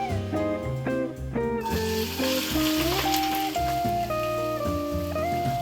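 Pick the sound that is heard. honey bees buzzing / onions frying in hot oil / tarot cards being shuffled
onions frying in hot oil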